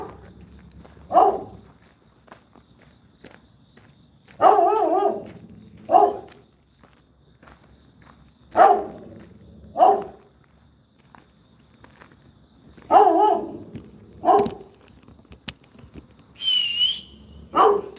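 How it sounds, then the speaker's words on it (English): A dog tied up on the first floor of an abandoned building barks in short bursts, several separate barks scattered irregularly with quiet gaps between them, fairly close in an echoing space, with no talking. "all of a sudden we heard a dog bark"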